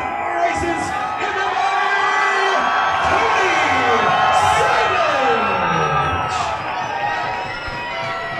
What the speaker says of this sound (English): The hometown crowd in the corner of Tony Savage tonight